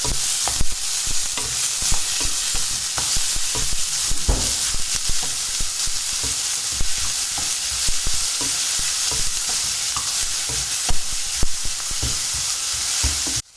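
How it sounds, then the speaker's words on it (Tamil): Onion, curry leaves and green chilli are sautéed in a pan for a vegetarian mock mutton liver chops dish. A loud, steady sizzle comes with busy, rapid spatula stirring and clattering close up, and no one speaks. "வெங்காயம் கருவேப்பிலை பச்சை மிளகாய் அதை சேர்த்துக்கலாம் எடுத்து நல்லா வதக்கி வச்சுக்கலாம்"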